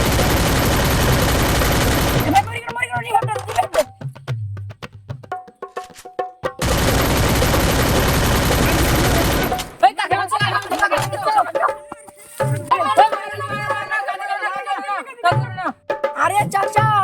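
Rapid gunfire bursts from the video game Free Fire, loud full-band volleys around two to three seconds long separated by quieter stretches where music-like game sounds and voices play.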